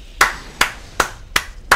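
Five sharp, evenly spaced claps from a single pair of hands in Dark Souls 2, slow and deliberate at roughly one clap every 0.4 seconds, close and clear with no talk.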